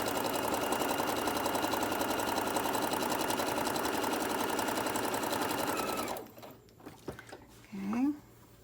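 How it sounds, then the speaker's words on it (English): A sewing machine stitches a tote bag seam in a fast, steady whirring run for about six seconds, then stops, leaving faint handling clicks and a brief rustle. "So I'm sewing a little bit less than 1/8 of an inch to the side."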